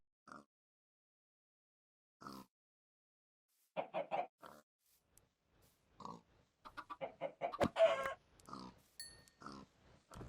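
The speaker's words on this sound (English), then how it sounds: "Silly chickens." Chickens cluck in the Minecraft-based game SkyFactory 3, giving short scattered clucks and squawks that are sparse at first and then crowd together into a busier flurry of bird calls.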